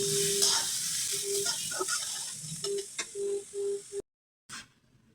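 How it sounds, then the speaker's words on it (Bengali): Sliced onions with bay leaves fry in hot oil, giving a faint, steady sizzle under short tonal music notes before cutting off near the end. "এখন আমি পেঁয়াজগুলি ভালো করে ভেজে নেব"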